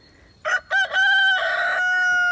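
A rooster crows loudly and close by among hens, one full cock-a-doodle-doo with a rising opening and a long sustained tail, with no talk over it.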